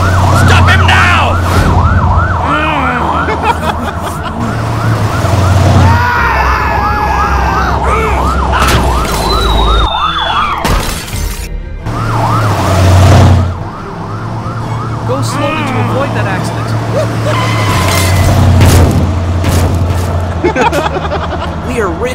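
A wailing ambulance siren in a Roblox game cycles up and down repeatedly, loud and close, amid engine rumble and shouting voices.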